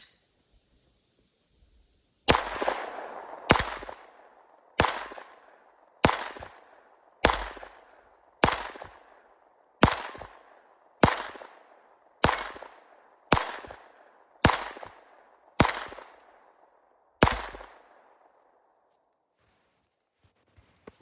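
Taurus GX4 pistol fired at a steel target about 15 yards away at an outdoor range, giving about a dozen sharp shots at a steady pace, each with a ringing metallic clang that decays before the next.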